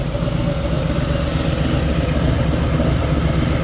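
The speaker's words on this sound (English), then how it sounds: "Bike's running." A Harley-Davidson motorcycle engine runs steadily at idle after starting, a close, loud continuous rumble with an even throb and no talk over it.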